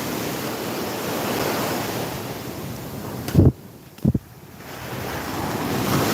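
Sea waves breaking and washing along the Bicol seashore, a steady broadband surf roar with wind buffeting the microphone and two brief heavier gusts or splashes in the middle.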